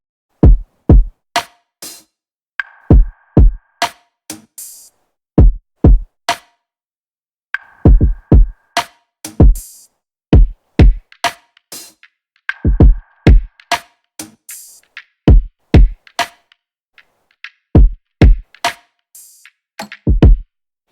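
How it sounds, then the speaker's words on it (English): The isolated drum track of an AI-generated song plays alone: crisp, punchy hits in a steady repeating groove, with short bursts of ringing, clangy accents recurring every few seconds. "So the drum sounds like this."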